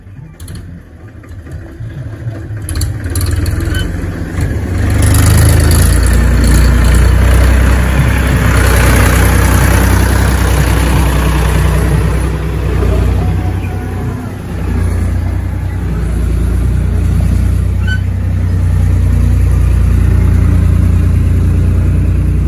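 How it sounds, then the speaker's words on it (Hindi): A tractor engine at a house construction site rumbles in, loud and close, building up over the first few seconds and then running steadily with low mechanical drone and occasional revving. "आ गया ट्रैक्टर"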